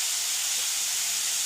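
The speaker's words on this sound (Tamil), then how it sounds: "இது நல்லா வதங்கட்டும்" Bitter gourd sautéing in hot oil gives a loud, steady, close hiss of sizzling that holds unbroken for a brief moment.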